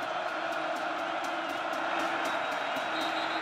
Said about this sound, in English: Now that's the crowd noise too now.